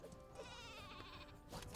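Sheep weapon in the Worms W.M.D video game giving a quavering cartoonish bleat over game background noise, short and fairly faint.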